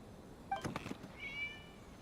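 A cat meows in the video game Genshin Impact, a short pair of mews followed by a thinner drawn-out cry, set against faint ambient game background.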